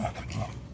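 A tired dog pants and breathes heavily at close range, a short burst of rough, breathy exhalations with a faint whimpering edge.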